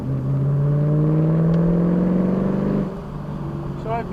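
A car accelerating hard on an open race track, heard from inside: the engine note climbs steadily in a loud, rising drone for about three seconds, then drops away abruptly as the throttle lifts, with a voice speaking over it.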